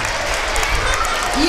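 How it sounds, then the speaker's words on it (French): Audience applause at a school cultural afternoon, a brief, dense burst of clapping that stays loud and steady throughout with a faint voice underneath. "Sous vos applaudissements, s'il vous plaît"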